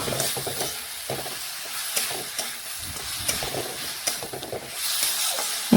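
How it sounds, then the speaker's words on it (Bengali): Fried cauliflower and potato are stir-fried with spices and salt in a pan, a constant close sizzle with repeated scraping and clattering of the spatula, and no voices. "এখন সমস্ত কিছু একসাথেই মশলার সাথে কষিয়ে নেব"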